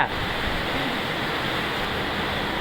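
Heavy rain pours down outdoors as a dense, constant roar of broadband noise, loud and unbroken throughout, with no talking.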